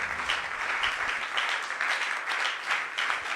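A church congregation applauds in sustained, steady clapping, loud and dense throughout with no pauses and no voices over it.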